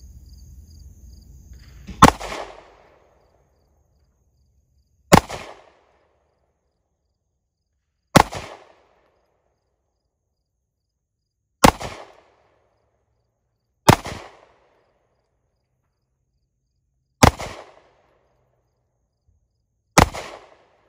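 Seven sharp single gunshots from an M1 carbine .30 caliber rifle ring out outdoors, spaced a few seconds apart, each loud and close with a short decaying echo.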